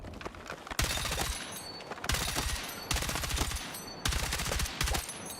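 Bursts of suppressed rifle fire from Battlefield 6, fitted with a vertical grip and long suppressor, come in four rapid automatic volleys separated by short pauses, close and punchy.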